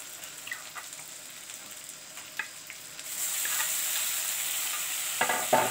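Fried rice with peas and soya chunks is stirred in a hot pan: light scrapes and clicks at first, then a steady close sizzle takes over, with a few more stirring scrapes near the end.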